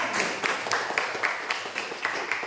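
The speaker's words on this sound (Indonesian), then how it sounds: "tepuk tangan" Students in a classroom clapping together, a rhythmic round of evenly spaced claps, moderately loud and close, lasting a couple of seconds.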